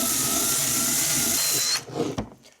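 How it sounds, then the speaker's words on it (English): A wire wheel spun by a drill scrubs rust off a snowblower auger shaft, a loud steady high whine with a scratchy buzz that stops abruptly, followed by a few brief clunks. "So again, wire wheel on a drill."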